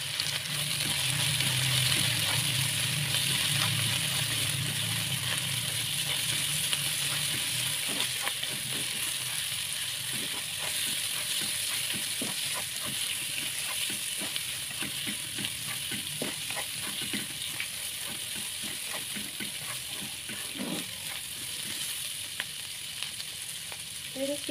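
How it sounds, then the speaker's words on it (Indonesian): Salted squid fries with spices and bitter melon in a hot pan, giving a steady loud sizzle and hiss with occasional stirring scrapes and clinks, with faint talk in the background. "kita cuminya goreng bareng bumbu ya"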